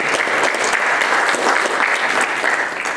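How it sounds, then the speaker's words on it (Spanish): Loud, steady applause from an audience at a labour-law oral litigation course, dense continuous clapping with no talk over it. "lo recibimos igualmente con un fuerte aplauso."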